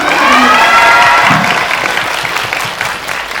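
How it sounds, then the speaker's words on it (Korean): At a film screening's stage greeting, a large audience claps loudly in a dense, continuous wave, with scattered cheers and shouts mixed in that fade slightly toward the end. "네, 박수 부탁드립니다."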